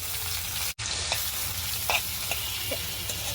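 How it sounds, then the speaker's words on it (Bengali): Dried fish (shutki) fries with onion in hot oil as it is stirred, giving a steady, close, crackling sizzle with a momentary break near the start. "এখন আমি যে নাড়াচাড়া দিচ্ছি, শুটকিটা দিয়ে দিলাম।"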